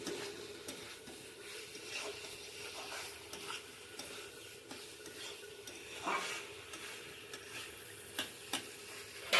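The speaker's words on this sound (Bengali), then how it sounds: "এবার সবজিগুলো সব ঢেলে দিলাম, দিয়ে একটু নাড়তে হবে।" Vegetables in a mutton curry pan stirred over the heat: irregular scraping and clinking strokes against a constant low sizzle, close and fairly quiet.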